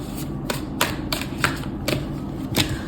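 Tarot cards are shuffled in quick, crisp riffles, a run of about eight sharp clacking bursts at an uneven rhythm, close and clear with no talking.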